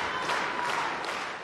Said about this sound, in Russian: Вау, еще хлопают!